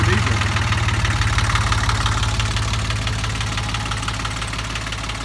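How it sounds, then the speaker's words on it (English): A 1983 International Harvester 274 diesel offset tractor engine idles close by with a steady, rapid knocking diesel chug that stays even throughout, gradually easing slightly in loudness, with no talk. "that's basically the International 274 diesel."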